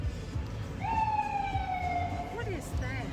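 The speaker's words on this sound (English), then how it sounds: "That's not a police car. No, it's a fire engine." A fire engine siren wails nearby in a street, heard from inside a shuttle van, its rising and steady tone sweeping over the engine rumble and road noise for about two seconds.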